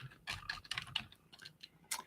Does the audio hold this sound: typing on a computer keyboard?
yes